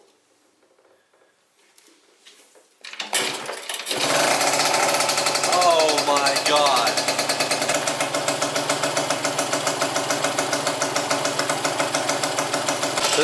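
A Yamaha YSR50 mini bike fitted with an upgraded exhaust and carburetor starts up after a few seconds of quiet, then runs at a loud, close, steady idle with a rapid pulsing beat. A voice briefly exclaims over it.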